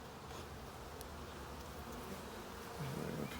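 Honeybees buzz at an open starter hive in a steady, faint, close hum that continues without a break, with no speech over it.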